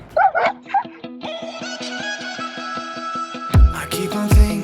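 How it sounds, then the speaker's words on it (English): A dog gives sharp yips and whining barks on a boat as an anchor is tossed overboard, a steady whine holding between close, loud bursts at the start and end. "So she barks to alert, man overboard, and oftentimes jumps in after it."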